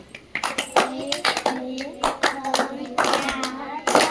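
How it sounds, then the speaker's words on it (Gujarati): Children in a classroom clap their hands in a series of quick, sharp bursts, loud and close, with an adult voice briefly over the claps. "ચલો પાંચ લાડુ તાળી પાડ દો"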